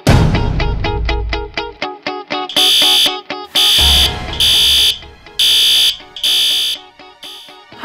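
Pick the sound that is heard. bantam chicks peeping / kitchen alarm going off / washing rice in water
kitchen alarm going off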